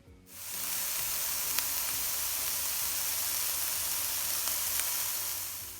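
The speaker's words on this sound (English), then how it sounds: "So while that is doing a little sizzle" Diced carrot and chicken sizzle in a frying pan, a steady broadband hiss that swells in and holds evenly at moderate loudness, with a few faint clicks of stirring.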